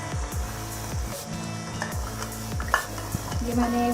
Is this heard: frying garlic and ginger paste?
yes